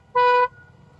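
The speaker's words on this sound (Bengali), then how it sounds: "প্রতিটা মোড়ে হর্ন বাজাবেন" A motorbike horn gives one short, loud, bright beep on a winding mountain road to Sajek, cutting off sharply into quiet engine-free background.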